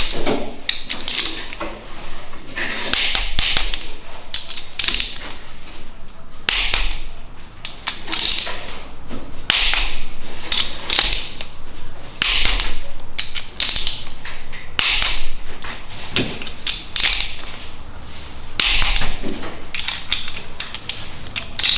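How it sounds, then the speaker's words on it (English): A hand ratchet tightens timing chain bolts on a BMW N47 diesel engine in dense bursts of sharp, close clicking. The short runs repeat back to back with only brief breaks, and no one speaks. "I'm going to tighten up all the bolts to 23 Newton meters"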